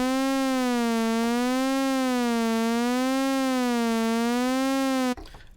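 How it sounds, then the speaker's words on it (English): A steady Arturia Jupiter-8V synthesizer tone whose pitch wobbles slowly up and down in a regular LFO vibrato, sustained for about five seconds before cutting off abruptly. "So let's get the low panel with a really identifiable oscillating LFO."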